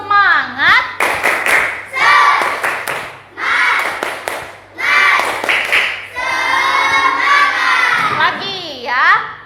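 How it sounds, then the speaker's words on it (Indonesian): Children in a classroom doing a rhythmic spirit clap, with repeated bursts of hand claps interleaved with their chanting and shouting voices, loud and close throughout. "Tepuk semangat."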